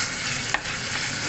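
Beef and onions fry in a pan with a steady, close sizzle, broken by a brief stir or scrape partway through.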